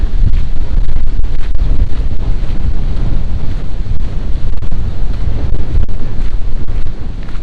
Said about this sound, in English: We do have a little wind cover, but it's really windy.